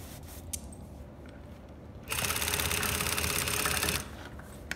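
A sewing machine stitches a dress lining hem, a close, rapid mechanical whirr lasting about two seconds after quiet fabric handling, then stopping abruptly.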